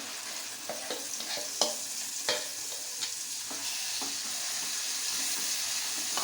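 A spiced yogurt mixture cooks in a pan with garlic and asafoetida over low heat, a soft continuous sizzle with several light stirring scrapes early on before it settles into a steady hiss.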